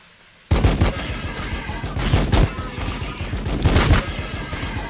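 Rapid pistol gunfire in the video game Warhammer 40K BattleSector, loud, dense volleys of shots and booming impacts that run continuously after an abrupt start.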